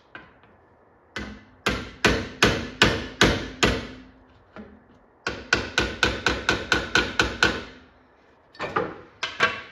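Light, rhythmic metallic taps of a hammer on a dolly against motorcycle sheet metal parts, in quick bursts of five to ten strikes, pausing between runs, close by with a faint ringing decay.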